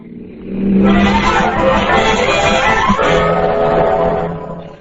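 A 1940s police car pulls away in a radio drama effect, engine rising steadily in a loud, continuous rev that holds for several seconds before easing off at the end.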